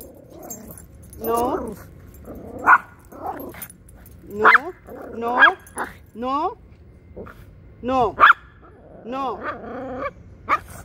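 Dogs bark, yip and whimper in repeated sharp bursts, some close and loud, with growls between them and a person talking over them.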